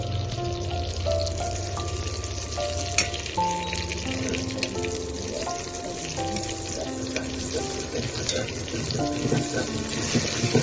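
Bay leaves and cumin fry in oil with a dense, continuous sizzle. A soft background hum and a few faint tonal sounds sit underneath, with no clear speech.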